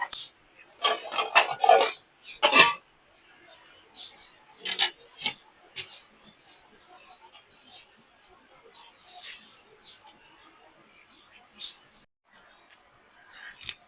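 Cooking pot and its lid being handled while fish pulao cooks, a few sharp metallic clanks and scrapes close by, then quieter rustling, with a voice talking.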